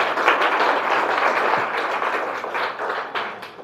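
An audience at a health product seminar applauds steadily, a dense wash of clapping that holds for several seconds before tapering slightly.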